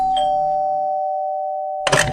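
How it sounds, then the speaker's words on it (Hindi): A house doorbell rings once, a clear sustained chime tone that rings on and slowly fades, followed near the end by a brief burst of broadband noise. "घर की डोरबेल से।"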